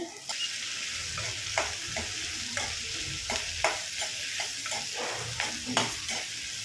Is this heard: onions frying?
yes